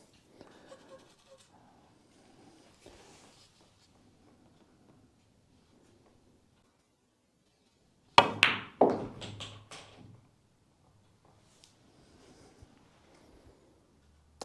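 Pool cue strikes a ball with pure side spin, a sharp tap followed by a burst of ball clicks and rolling across the table, loud and close, set amid an otherwise quiet room.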